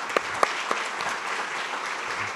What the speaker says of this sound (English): We need another round of applause for Melissa.